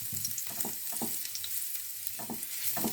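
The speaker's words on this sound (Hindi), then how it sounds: "अब एक पैन ले लेना है और उसमें ऐड करिए 2 छोटा चम्मच ऑयल। अब इसमें ऐड कर दीजिए 5 कलियां लहसुन की," Grated garlic fries in two teaspoons of oil in a pan, a soft continuous sizzle with faint scraping and stirring taps scattered through, quiet and close with no talking.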